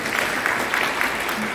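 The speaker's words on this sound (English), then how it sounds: "please, yes, applause for that." Applause from an audience at a gathering of Guineans in New York, a steady dense patter of clapping that holds evenly throughout, with faint voices mixed beneath.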